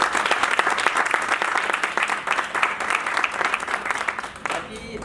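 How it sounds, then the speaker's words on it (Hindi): Enthusiastic audience applause at a Safedeal Spark business gathering, a dense wash of many hands clapping loudly and steadily for about five seconds, then thinning out near the end. "तो इनके लिए एक जोरदार ताली।"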